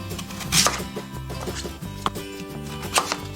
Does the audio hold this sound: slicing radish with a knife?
yes